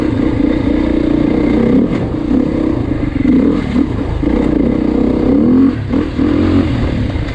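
A 2024 Beta 390 RR motorcycle engine drones loud and close while riding in a high gear, with a steady mid-pitched roar, small throttle swells and chassis clatter.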